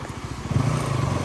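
Brand new Bajaj Pulsar NS200 motorcycle on a morning ride, its engine note rising from a soft idle into a steadier, louder hum partway through, heard up close with no talking.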